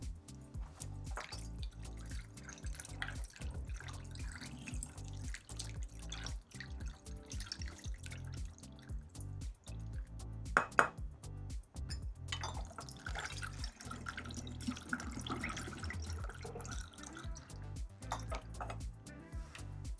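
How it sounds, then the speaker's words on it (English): Homemade passionfruit kombucha is poured into 12-ounce glass bottles, a continuous trickle and splash of liquid filling one bottle after another, close by and steady for the whole stretch. "I'm just gonna go ahead and fill all of these bottles up."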